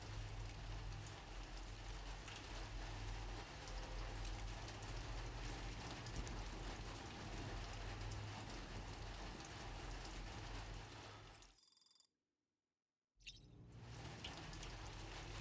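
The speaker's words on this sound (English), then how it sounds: "It's still raining?" Steady rain falls in Death Stranding 2, a constant dense patter of drops that cuts abruptly to silence for about a second before resuming.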